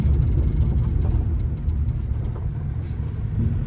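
A 1974 Renault 4L cruises along with a steady, close low rumble of engine and road noise that holds at a constant level throughout, with no talking.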